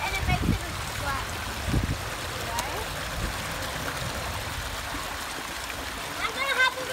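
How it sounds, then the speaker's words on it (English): Creek water flows steadily with a continuous rushing hiss, broken by a few louder splashes as a hand is held against the falling water; children's voices are heard nearby. "When the water's going down, put your hand up and it makes it a splash."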